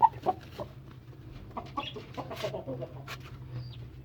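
A broody hen sits on her eggs, giving soft, scattered clucks and low grumbles at close range, with faint background noise and no clear talking.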